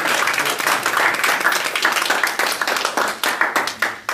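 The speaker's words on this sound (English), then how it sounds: "give him a round of applause" A club evaluation meeting audience applauds, dense steady clapping filling the whole moment at close range with no talk over it.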